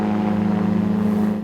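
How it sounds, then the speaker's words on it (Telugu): A powered parachute motor drones steadily and loudly at a beach festival, holding one even, close pitch without pause. "ఈ మోటార్ స్టార్ట్ అవుతుంది. ఇది మోటార్ సౌండ్ కూడా వస్తుంది."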